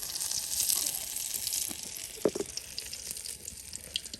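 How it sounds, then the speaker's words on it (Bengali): Garlic paste in hot oil with fish, sizzling in a broad hissing wash that is strongest at the start and eases off, with a few light clinks and spatters near the middle and end. "আর এই যে এখন তেলে রসুন বাটা দেওয়া হলো"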